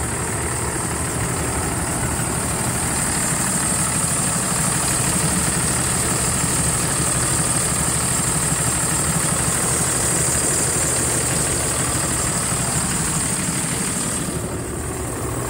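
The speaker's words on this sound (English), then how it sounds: "All right, here we go. Let you hear the engine." A 340hp Cummins diesel in a 2013 Ford F650D flatbed truck idles steadily, a constant low rumble with mechanical whine and vibration, close and even throughout with no voices.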